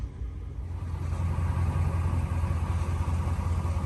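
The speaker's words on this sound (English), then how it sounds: "Let's go to the back so you can hear the exhaust." A Ram 1500 pickup truck with a 4-inch lift kit and unmodified stock exhaust runs steadily, giving a deep, continuous low rumble heard close from behind the truck.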